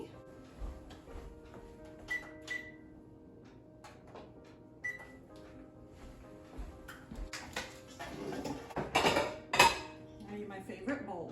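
A favorite mixing bowl is pulled out among kitchen dishes, with scattered clinks and knocks of crockery and utensils that build into a louder burst of clattering near the end.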